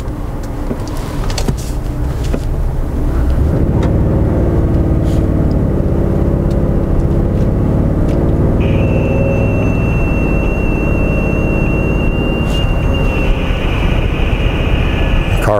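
Cars pass along a road near a police radar gun setup, giving a continuous loud roadway rumble with vehicles sweeping by, and a steady high tone enters partway through.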